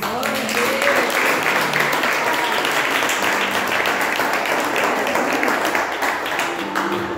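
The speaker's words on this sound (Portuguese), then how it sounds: "Eu peço que nós possamos nesse momento louvar a Deus com as palmas em nome de Jesus." Church congregation clapping together in praise to God, a steady, continuous wash of hands from many people, even in loudness throughout with no pauses.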